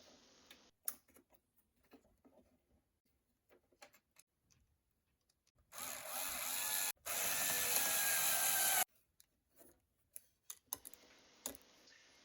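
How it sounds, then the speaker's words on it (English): Valve assembly being screwed back into a De'Longhi EC680 espresso machine under repair for dripping, heard as sparse close ratcheting clicks and small taps, with a loud steady hissing burst for a few seconds in the middle. "then you can screw the whole valve assembly back in place"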